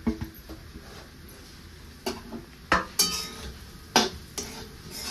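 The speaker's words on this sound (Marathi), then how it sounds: "सगळं डाळीचं वाटण केलेलं आहे तुपामध्ये आपल्याला टाकून घ्यायचं आहे भाजण्यासाठी।" Ground soaked dal paste roasting in ghee for laddoo, with a steady low sizzle under scattered clinks and scrapes of a utensil against the pan, several sharper knocks standing out.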